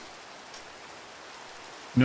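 Rain falls in modded Minecraft as a faint, soft, steady hiss in the background, cut off by a short louder sound at the very end.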